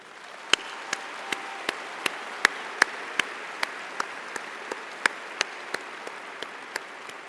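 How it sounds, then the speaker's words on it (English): A large commencement audience gives sustained applause, a dense even wash of many hands with a few sharp nearby claps standing out throughout. "Please join me in congratulating them with a round of applause."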